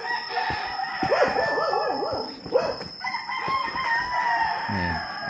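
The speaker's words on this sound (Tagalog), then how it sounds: "Puro manok dito." Chickens on a farm in Alfonso, Cavite: a rooster crows loudly nearby amid scattered clucking, with a dog barking briefly toward the end.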